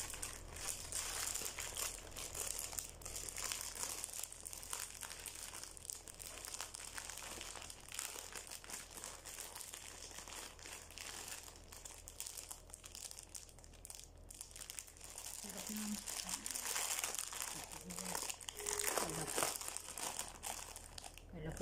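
Plastic packaging is opened and handled up close, producing continuous crinkling and crackling throughout with a few rustling surges, and a voice speaking faintly underneath.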